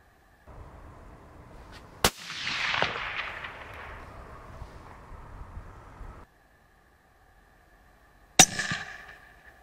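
A single sharp rifle shot fired from tripod sticks at a fox about 95 metres away, outdoors during foxing, cracks loudly and rolls off in a long decaying echo, followed later by a second sharp crack.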